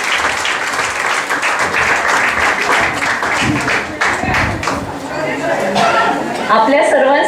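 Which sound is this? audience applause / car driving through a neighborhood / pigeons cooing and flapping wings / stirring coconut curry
audience applause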